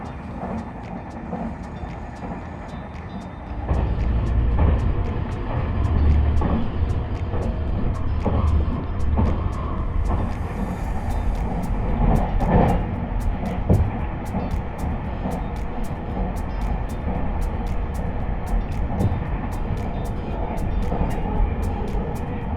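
A moving SpaciaX, Japan's newest luxury train, heard from inside its cockpit suite: a continuous low rolling rumble with regular faint clicks and knocks as the carriage travels along the track.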